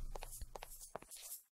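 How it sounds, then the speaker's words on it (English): Footsteps in a video game, a series of soft, separate taps at an uneven walking pace, faint and close, ending in silence. "Let's turn down the footstep noise and the volume down a bit."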